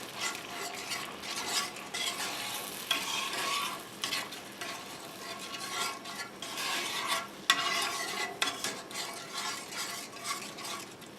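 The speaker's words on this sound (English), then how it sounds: "we're going to let this simmer and reduce for a little while until it thickens up some" Cream sauce for steak Diane simmering and reducing in a cast iron pan over a wood fire, a steady soft bubbling sizzle with faint stirring and scraping, fairly close and continuous with no talk.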